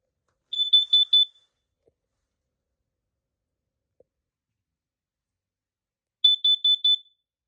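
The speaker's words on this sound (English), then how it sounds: "And obviously, we'll let this thing alarm in CO." A carbon monoxide alarm on a demo board sounds two groups of four quick, shrill beeps, separated by a long silent gap. A faint click falls in between.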